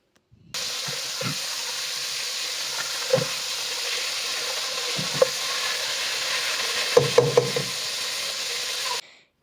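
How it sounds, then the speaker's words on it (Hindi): Garlic-ginger paste frying in a pan for chicken corn soup, a steady close sizzle and hiss running throughout, with occasional scraping stirs of a spoon against the pan. "इसको भी अच्छी तरह से भून लेंगे"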